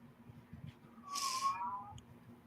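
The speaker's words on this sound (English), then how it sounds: "Where else can you go on a podcast and listen to a cat scream all night?" Cat meowing loudly outdoors at night, one drawn-out strained wail heard at moderate distance over low background noise.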